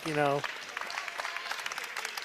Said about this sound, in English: Fieldhard checks out to an ovation from the crowd.